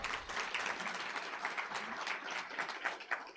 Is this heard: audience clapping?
yes